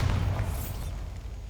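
The Bombarda blasting spell goes off in Hogwarts Legacy: a short, loud, close boom with a rumbling tail that fades over about a second.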